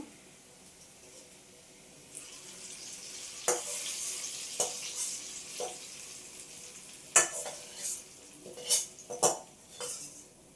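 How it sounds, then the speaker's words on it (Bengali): Hot fried onion tempering hits cooked lentil dal with a quiet sizzle, followed by scattered clinks of a spoon against the pot and soft stirring. "ডালের মধ্যে আমি ফোড়নটা ঢেলে দেবো"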